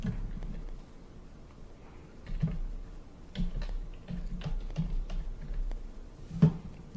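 Light typing on a computer keyboard, soft scattered key clicks in uneven bursts, faint and close against a quiet room.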